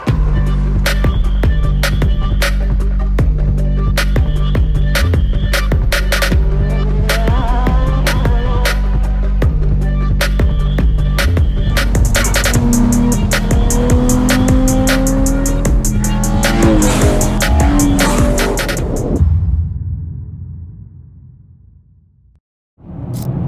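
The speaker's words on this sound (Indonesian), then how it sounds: "gimana kalau kita nyetir dulu nih Ferrari Purosangue" A Ferrari Purosangue V12 drives on a New Zealand road, its engine droning loud and steady throughout, with rising revs and shifts before the sound fades out near the end.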